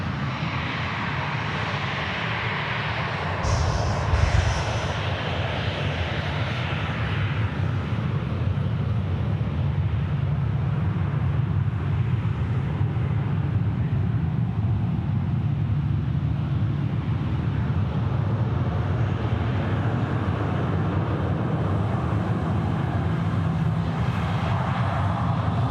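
A Singapore Airlines jet takes off from runway 34 left at Sydney Airport, its engines a broad, constant roar with deep rumble that holds steady throughout, heard from a distance with some wind buffeting on the microphone.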